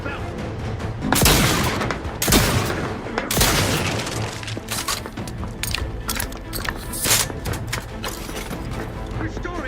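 A grenade blast and bursts of gunfire fill a firefight in the video game Outer Worlds 2, with sharp loud impacts and booms in quick irregular clusters while voices shout over the combat.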